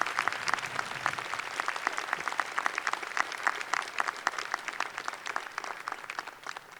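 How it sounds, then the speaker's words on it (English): Sustained applause from a large commencement crowd honoring the faculty at DePauw University, dense steady clapping filling the hall without pause. "could we give our faculty a round of applause?"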